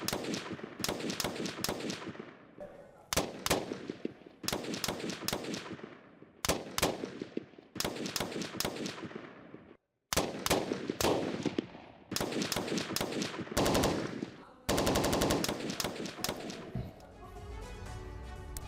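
Bursts of gunfire from a Ukrainian attack on Russian positions come as repeated sharp shots and rapid volleys. A sustained burst of automatic fire is heard near the end, loud and close with echoing tails.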